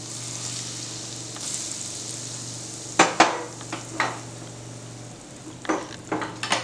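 Hot spiced tempering with turmeric and chili powder poured onto onions for a pickle, a soft hiss building into sharp sizzling bursts and crackles, with a low steady hum beneath.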